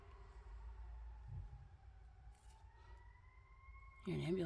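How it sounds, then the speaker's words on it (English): A passing ambulance siren in a small town, a rising wail sitting faintly in the distance under background noise, with a brief louder burst at the end. "You're an ambulance."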